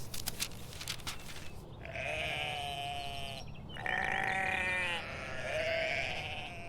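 Sheep in a grazing meadow bleat up close, three long wavering calls in a row, loud over a low outdoor background with a few clicks at the start.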